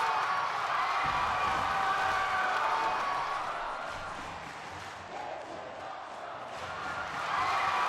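A virtual crowd at a Second Life wrestling match gives a steady, moderately loud roar of cheers and shouts that dips briefly midway and swells again.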